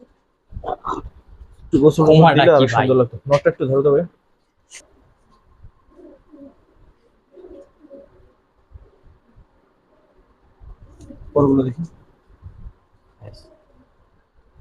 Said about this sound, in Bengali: অস্থির কোয়ালিটি দুইটা কবুতর